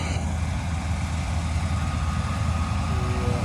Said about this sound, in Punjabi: sarpanch the tractor